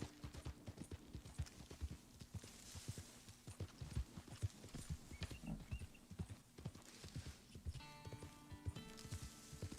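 The hooves of a Black Arabian horse clip-clop steadily in a video game, a continuous even beat of close hoofbeats. Faint game ambience sits underneath, and a brief tonal chime comes near the end.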